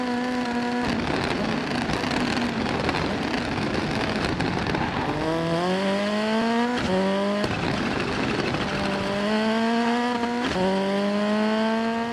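A rally car engine in the video game Assetto Corsa Rally roars loudly and continuously, revving up through rising gear pulls with brief drops between shifts, tires hissing on loose gravel.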